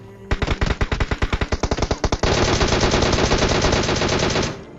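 Shooting video game gunfire: a quick run of loud single shots about twice a second, then a sustained full-auto burst of rapid fire lasting over two seconds before cutting off.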